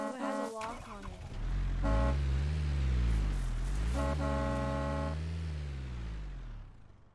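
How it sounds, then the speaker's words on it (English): Car horns honk in the video game Rust, several long steady blasts in sequence sounding close and loud over a continuous low vehicle engine drone. "They're just honking."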